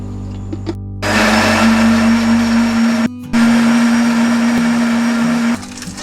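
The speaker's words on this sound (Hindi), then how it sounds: "एक मिनट के लिए ब्लेंडर को चलाएंगे" A blender whirs loudly as it blends a mint lemon soda with lemon juice and soda, a high steady motor whine that stops briefly at one point and then restarts, with no talking.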